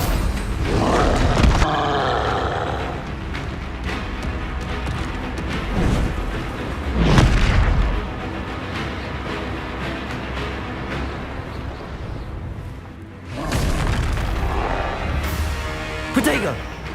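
Spell impacts in Hogwarts Legacy, including fire and ice spells, land as loud booming blasts and thuds in recurring bursts over game combat noise, with spoken spell incantations throughout.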